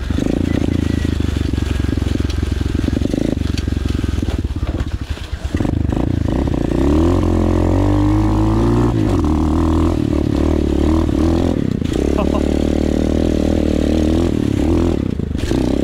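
A 125 cc pit bike, either an SSR 125 or a Monster Joe 125, ridden hard with its small single-cylinder engine revving and buzzing up and down through the gears, loud and close, with clattering and brief dips as the rider shifts.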